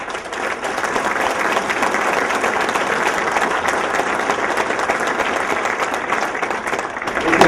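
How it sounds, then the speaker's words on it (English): Steady, dense applause from a large audience at a county awards event, sustained and even throughout with a slight swell at the end. "I'd like to give them a round of applause."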